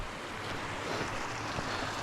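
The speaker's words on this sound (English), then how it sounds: "So the creek that we saw earlier down at the cabin," A creek along a mountain hiking trail on Maddron Bald flows with a steady, broad rushing wash, moderately loud and continuous, with no voices.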